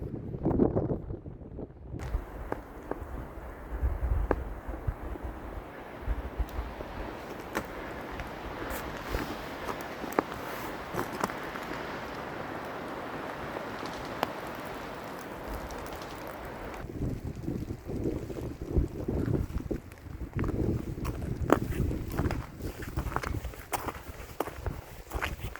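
Steady wind gusting across a microphone on a foggy mountain hiking trail in February, a constant broadband rush with occasional footsteps crunching near the end.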